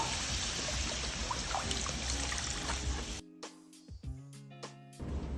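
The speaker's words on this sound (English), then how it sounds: "To this I'm going to add about a liter of water." Water pours steadily into a cooking pot, about a liter, for a few seconds, then stops abruptly, followed by quieter clinks and tonal kitchen sounds.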